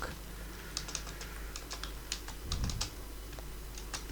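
Computer keyboard typing while coding in the Godot 4 game engine: a steady run of light, irregular key clicks with a brief louder burst near the middle, close and clear over a low background hum, with no talking.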